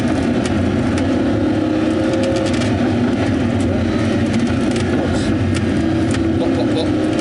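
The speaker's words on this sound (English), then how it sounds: "Pop, pop, pop. That's a standard exhaust?" A car with a standard exhaust drones steadily while scattered sharp crackles and pops burst from the tailpipe, loud and continuous throughout.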